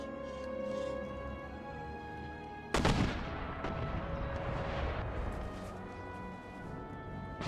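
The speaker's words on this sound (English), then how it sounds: "The mortars work for us now." Mortar artillery fire in the Empire Total War game, a sudden heavy booming volley after a quieter stretch of background battle ambience, followed by rumbling, crackling aftermath.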